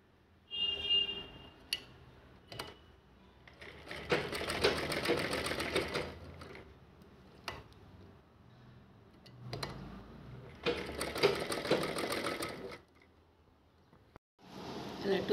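A sewing machine stitching cloth for a table cloth runs in several loud, close bursts of rapid whirring, separated by quieter pauses with faint clicks and handling noises.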